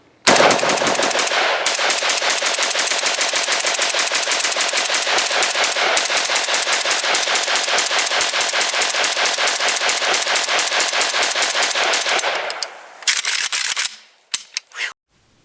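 A Romanian AK rifle, an AES-10B model, fires full automatic in one loud, close, sustained burst lasting about twelve seconds, followed by a few scattered shots and rattles as it stops.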